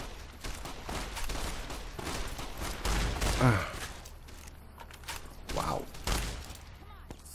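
Gunshots crack in a ghost town firefight in Fallout: New Vegas, with scattered rapid shots over the length of the clip, one short exclamation from a voice, and a sweeping whistle-like effect midway.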